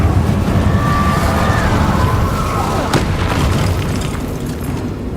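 A Confringo spell blast in Hogwarts Legacy: a loud, sustained explosive boom with a brief rising whine and a sharp crack near the middle, the rumble slowly fading toward the end.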